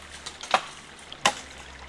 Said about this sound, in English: the falling acorns bring a lot of sound life to this small section of stream